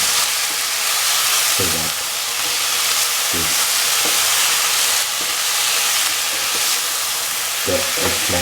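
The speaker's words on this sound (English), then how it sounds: "Now, salt and mix" Eggplant fried rice with salt is stirred in a hot pan: a loud, continuous sizzle with occasional scraping spoon strokes, and brief speech.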